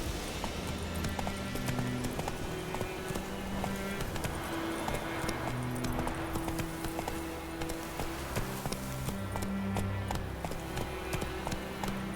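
Roach, the horse in The Witcher 3, gallops with steady, rhythmic hoofbeats that carry on without a break, close and clear with almost no talk.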